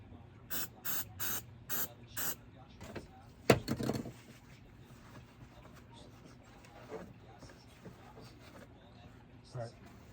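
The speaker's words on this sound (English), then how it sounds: "I'm gonna hit it with that cleaner real quick. Just getting the rest of the oil residue off." Several short trigger-spray bursts of cleaner hit a Harbor Freight Predator 3500 inverter generator to clear oil residue, a quick rhythmic series of hisses near the start, followed by a sharp knock and quieter handling noises.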